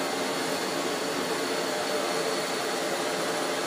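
A MAPP gas torch flame used for glass blowing roars as a steady, loud, broadband hiss that holds unbroken from start to finish.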